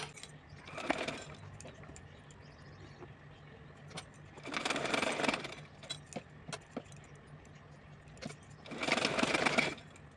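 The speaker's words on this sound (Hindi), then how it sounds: "तो चलिए उसी तरह से सिलाई करके आपको यहाँ पे दिखा रही हूँ।" Three short bursts from a sewing machine stitch a small dress for a size 3-4 Laddu Gopal idol, each rapid needle run close and clear and separated by quiet pauses with faint handling clicks.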